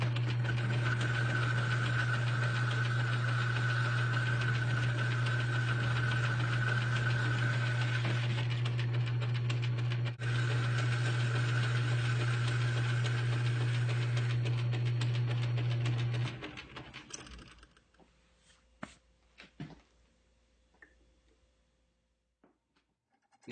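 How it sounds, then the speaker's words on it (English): Metal lathe boring out a hole to size: a steady, loud machine hum with a constant low drone and a higher whine, running continuously for about sixteen seconds before cutting off to quiet, scattered clicks and taps. "I'll just use my metal lathe and bore it to the right size."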